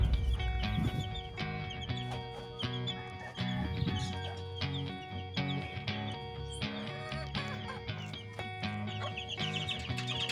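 Backyard chickens, including a white Kelso cross, clucking and calling repeatedly at close range, a busy overlapping chorus of short clucks and squawks with farmyard background noise and no talk.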